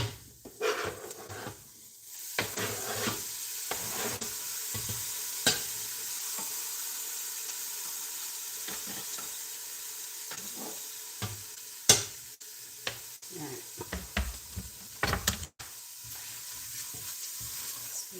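Ginger and garlic sizzle softly in a pan while a utensil stirs them, with quiet scraping and sharp clacks now and then over a faint, steady hiss, no talking.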